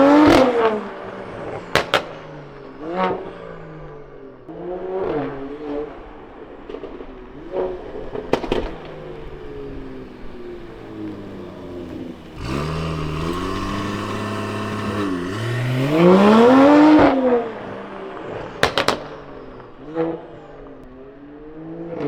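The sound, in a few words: Mercedes E53 launching with modified exhaust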